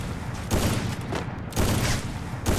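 Sniper rifle shots in the Free Fire mobile game, three loud blasts about a second apart, each with a booming tail.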